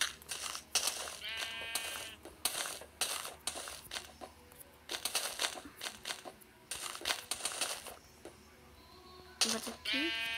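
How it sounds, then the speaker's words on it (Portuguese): Sheep bleat in a survival-style video game, several short nasal bleats repeating amid clicking and crunching game sounds, with a person talking over them. "Sai daí, ovelha."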